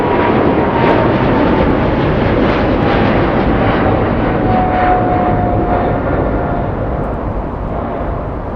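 A jet airliner takes off from the nearby runway 25 left at Los Angeles International Airport, a loud, continuous broadband engine roar that holds steady and eases slightly toward the end, heard alone with no voices.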